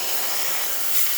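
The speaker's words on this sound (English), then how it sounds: "Really great steam coming out from the boiler." A loud, continuous hiss of steam rushing out of a Pasquini espresso machine boiler after a heating element replacement, close and steady throughout, with no talking.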